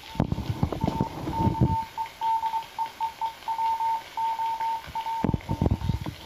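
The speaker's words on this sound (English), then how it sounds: "Here we're listening to some CWs or Morse code signals on 40 meters." Morse code CW signals tuned in on the 40-meter band through a Hammarlund HQ-110 communications receiver: a steady tone keyed in rhythmic dots and dashes over receiver hiss, with brief bursts of noise at the start and end.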